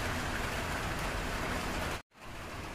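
Steady heavy rain pours in a loud, dense, even hiss, cutting off abruptly and briefly before resuming slightly softer.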